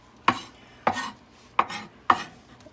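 Four sharp knife chops on a cutting board while preparing ingredients for barbecue bacon cheeseburger tacos, evenly spaced and close, with quiet pauses between strikes.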